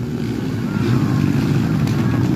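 Underbone motorcycle engines droning in an open final race at Kiburiao, Quezon, Bukidnon, a steady mid-distance buzz of several bikes that swells slightly toward the end.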